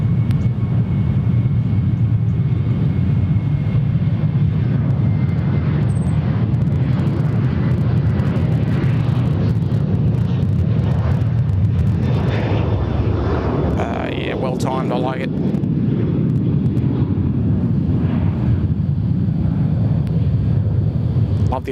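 A Cathay Pacific Airbus A350 arriving from Hong Kong on runway 34 left at Sydney Airport, a steady loud jet roar with wind buffeting the microphone throughout and a louder surge near the middle.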